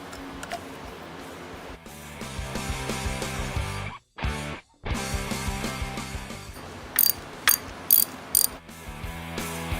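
A hand ratchet clicks in quick repeated runs while spark plugs are removed from a restored Suzuki, with a short pause midway and a few sharper metallic ticks near the end.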